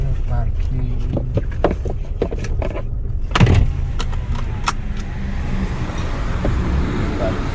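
A car being parked on an Indonesian street rolls slowly with a low engine rumble, scattered clicks and thumps, and some distant traffic, while people chat in the background.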